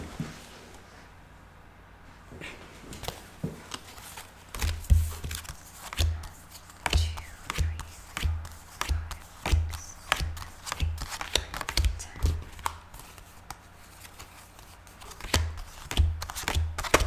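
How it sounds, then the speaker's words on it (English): Playing cards are shuffled over and over, crisp riffling bursts repeating in a steady rhythm, close and fairly loud. "I feel like I'm gonna continue to shuffle."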